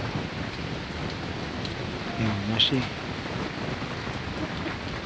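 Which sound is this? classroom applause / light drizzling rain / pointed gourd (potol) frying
light drizzling rain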